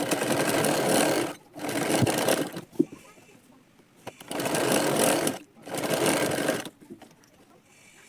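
A sewing machine stitches a blouse shoulder seam in two close, loud bursts of rapid needle chatter, each lasting over a second, with short pauses and quieter handling sounds between them.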